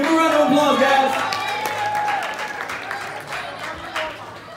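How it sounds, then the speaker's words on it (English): Conference audience breaks into applause, clapping strongest at first with a few cheers, then fading gradually with voices talking underneath. "Give them a round of applause, guys."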